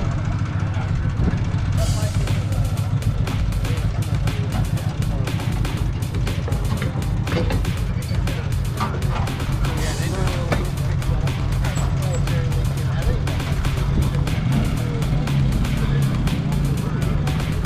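A midget race car's engine drones steadily as it rolls out onto the track, a loud continuous low rumble with rattling bursts, while people talk over it.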